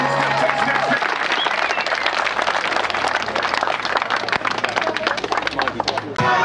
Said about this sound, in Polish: Brawa! Oklaski!